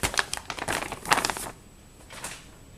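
The seal on an MRE bag is peeled open up close, giving a burst of crinkly plastic tearing and rustling over about a second and a half, then a brief softer rustle before it goes quiet.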